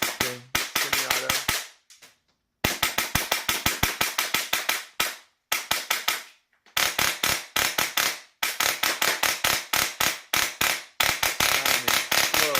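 A Salient Arms airsoft gun fitted with a Wolverine Inferno fires in semi-auto mode, giving loud, sharp, rapid cracking shots in close bursts with brief pauses between strings.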